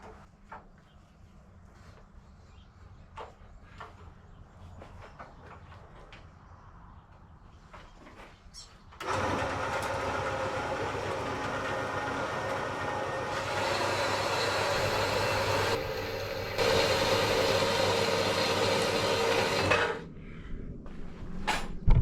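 A metal pipe for a ramp handrail is being cut: after quiet workshop clatter, a loud, steady, harsh roar starts abruptly and runs continuously for about eleven seconds before stopping.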